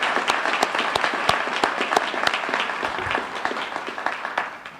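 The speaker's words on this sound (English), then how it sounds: "Let's give them a big round of applause." A crowd at a 2014 Herndon Town Council swearing-in ceremony applauds, a dense, steady burst of many hands clapping that fades slightly toward the end, without talking.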